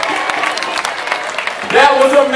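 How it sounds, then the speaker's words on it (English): Flash mob participants applaud after learning a dance, a dense burst of group clapping, fairly loud and close, with a voice rising over it near the end. "Give yourselves a round of applause"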